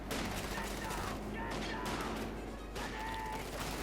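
Machine gun fire crackles in Company of Heroes 2, a heavy machine gun team loosing rapid bursts amid the general din of battle, loud and continuous with brief gaps between volleys.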